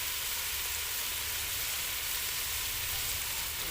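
Cumin seeds and turmeric sizzling in hot oil for a pork dish, a steady, even crackle that holds unbroken throughout without any voices.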